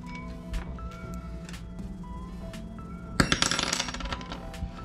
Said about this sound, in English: now we're gonna crimp our hook on